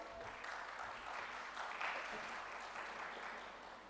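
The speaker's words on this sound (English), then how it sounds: "Give a round of applause." An audience at a dental conference lecture claps in sustained, dense applause, moderately distant and fairly quiet, with no speech over it.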